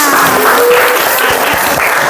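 A high school sociology class in Kuripan claps for a classmate after a presentation, loud dense applause filling the room from start to finish, with a faint tonal hum beneath.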